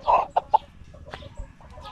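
A five-month-old Dekalb Brown rooster gives a few short, close clucks early on, then quieter scattered sounds follow over faint background noise.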